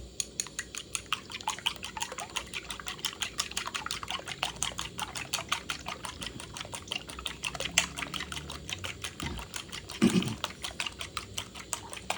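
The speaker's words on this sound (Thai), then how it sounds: "ตีฟองนะครับตีฟองให้อากาศผสมเข้าไปข้างใน" Rapid, steady clicking of a whisk beating eggs in a bowl, continuing without pause for the whole stretch at moderate volume.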